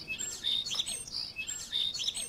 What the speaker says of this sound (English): Bank 6, I loaded in some bird sounds